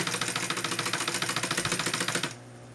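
Sewing machine stitching a synthetic tote bag near its zipper, a fast even mechanical rattle of rapid needle strokes running loud and close, then stopping abruptly near the end, leaving a low motor hum.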